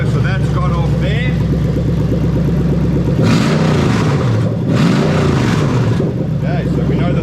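Toyota 3UZ-FE VVT-i V8 from an SC430 with a manual gearbox, running on a test harness, idles steadily then revs twice on the throttle in loud, close rising surges.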